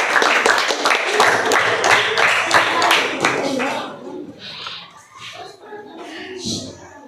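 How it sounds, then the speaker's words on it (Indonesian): Schoolchildren in a classroom clap for a group presentation, a dense burst of applause lasting about four seconds before it fades and voices take over. "Kita beri aplaus, anak-anak."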